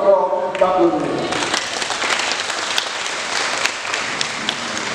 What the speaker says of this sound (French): je vous demande encore d'applaudir